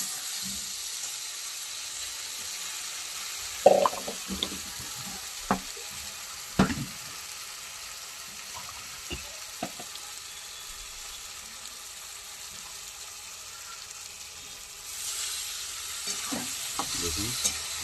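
Fried potatoes and onions sautéed with Kashmiri chili, green chili paste and mustard powder: a constant close sizzle in the pan, broken by occasional scraping and tapping strokes of the stirring spoon, with no voices.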